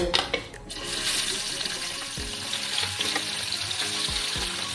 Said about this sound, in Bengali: তেলটা আমার গরম হয়ে গেছে, এবার আমি মাছগুলো দিয়ে দেব